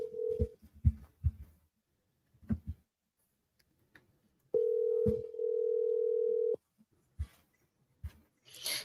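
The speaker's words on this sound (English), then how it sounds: "Can y'all hear the phone ringing?" A phone ringback tone sounds during an outgoing call: a long steady electronic tone rings out for about two seconds after scattered soft clicks and thumps, fairly quiet and with no talk over it.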